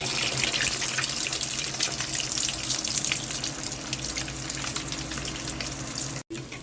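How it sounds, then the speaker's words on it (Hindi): Chicken cheese bread rolls fry in hot oil with a steady, dense crackle and hiss that holds close and loud throughout, with no voices. "अब हम फ्राई करेंगे इसको।"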